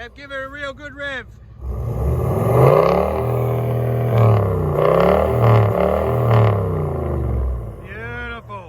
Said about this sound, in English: give her a real good rev